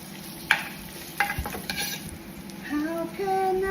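Ginger, onion and garlic sauté in a pan, a low sizzle under a few sharp stirring clinks and scrapes, with faint tonal music rising near the end.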